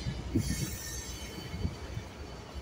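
Union Pacific 1979 freight train passing at Emeryville, heard as a continuous rolling rumble of railcars with faint wheel noise, moderately close and steady throughout the short stretch, with no voices.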